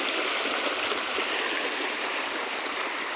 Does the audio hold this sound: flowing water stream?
yes